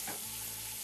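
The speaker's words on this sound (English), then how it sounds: "So here we are, we saute it." Sautéing in a pan with Marsala wine gives off a brief, steady sizzle with a faint scrape of stirring near the start, close and continuous.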